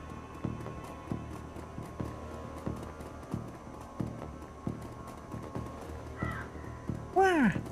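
In the video game Shadowrun Returns, a crow gives a few sharp, loud caws near the end, following a steady rhythmic tapping in the background.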